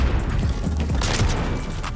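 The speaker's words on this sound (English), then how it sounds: "All right, let's be careful with this explosion" A deadly explosion goes off in the shooter game Modern Warfare, a loud, booming burst with a crackling rumble that swells and then fades over about two seconds.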